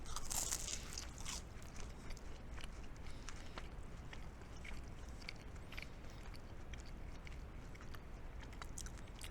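Someone chews a bite of a Papa John's Parmesan crusted meatball pepperoni papadia, close wet crunching and chewing with soft irregular bites and mouth noises continuing steadily, no talking.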